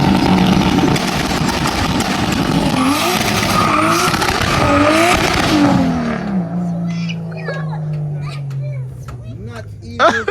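Drift car powered by a 2JZ engine revs and slides, its loud engine wailing and surging with screeching tire squeal for several seconds before settling to a lower idle-like drone, with people talking nearby.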